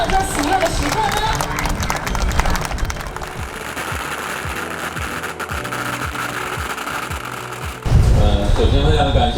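Applause from guests at a groundbreaking ceremony for a new residential and commercial building, loud and sustained throughout, with a dense burst of claps swelling near the end over background crowd noise.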